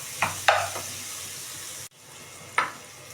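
Pork cubes are stirred in a pan for a pechay and tomato pork ginisa, with a few short scraping stirs over a low background sizzle, close by and without talk.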